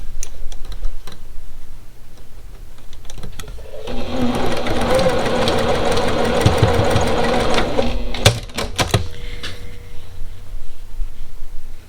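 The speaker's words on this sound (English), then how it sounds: "I'm just going to sew a 1/4 inch seam right there." A sewing machine runs steadily for several seconds stitching a quarter-inch seam in a pickle dish quilt block, its rapid needle rhythm framed by a few clicks and handling taps before and after.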